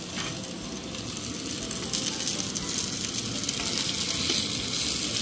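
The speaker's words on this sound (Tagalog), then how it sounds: "Tapos yung manok, gisahin mo lang siya sa sibuyas, bawang, tsaka yung luya." Chicken sautés with onion, garlic and ginger in a hot pan, a loud, steady sizzle and crackle that builds slightly over a few seconds, with no one talking.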